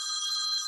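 A telephone rings with a steady electronic trill in a studio setting, one short continuous burst at moderate level, alone.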